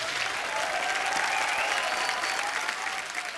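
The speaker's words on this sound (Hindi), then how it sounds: "बार फिर से तालियां बनती हैं।" Studio audience at a comedy talk show bursts into steady, dense applause, loud and continuous for a few seconds with no talking over it.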